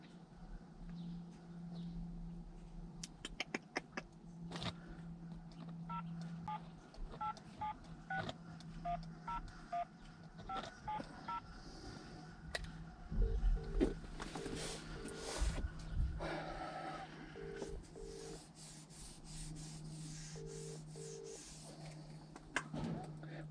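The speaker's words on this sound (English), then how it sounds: "So let's have a dial and see where we go." Telephone keypad dialing tones while a plumber calls a landlord, a run of short beeping tones in sequence followed by repeated ringback tones, with quiet background talk and noise.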